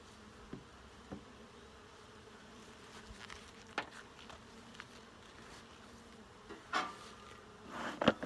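Honey bees buzz around an open hive during an inspection, a faint steady hum with occasional louder passes as individual bees fly close, plus a few small knocks and handling noises.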